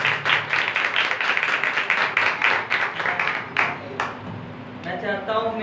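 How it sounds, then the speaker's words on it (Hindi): An audience at a Christian ministry gathering in Pakistan claps loudly and steadily to welcome a speaker onto the stage, a dense roar of hands that thins near the end as a voice begins. "जोरदार तालियां।"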